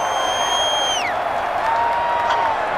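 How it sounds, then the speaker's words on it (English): Stadium crowd noise in Madden NFL 21 during a New England All-Time Patriots versus Miami All-Time Dolphins game, a steady roar of cheering and applause with a falling whistle-like tone over it. "The crowd's not doing that O-line any favors."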